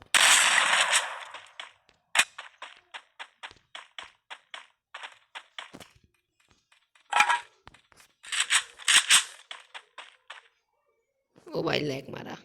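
Rapid bursts of MP40 submachine gun fire from a Free Fire shooting video game ring out as short repeated volleys, crisp and close, with brief gaps between bursts.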